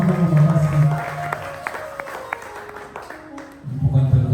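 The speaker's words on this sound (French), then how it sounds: "Acclamons très fort." Congregation applauding at a church service, brief clapping and crowd noise swelling at the start and again at the end, with a voice and music-like tones in between.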